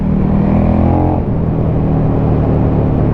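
A KTM 1290 motorcycle fitted with an Akrapovic slip-on exhaust revs up and settles into a steady, fairly loud engine drone, heard close by without speech.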